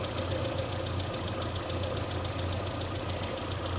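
An MG Midget engine idles steadily at about 850 RPM, a continuous low rumble with a faint even ticking, heard close with no talk throughout.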